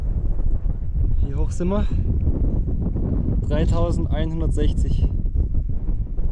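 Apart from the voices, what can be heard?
strong cold wind on the Pamir Highway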